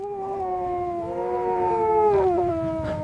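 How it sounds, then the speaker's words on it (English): A medium gray polar Arctic wolf gives one long, tonal howl that wavers and slowly slides downward in pitch, clear and fairly close. "Medium gray polar Arctic wolf."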